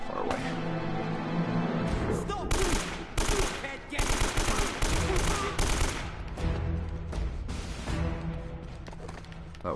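Uncharted: The Nathan Drake Collection firefight: rapid bursts of gunfire, single shots and automatic fire in clustered volleys with brief gaps, loud and close, with a faint voice in the mix.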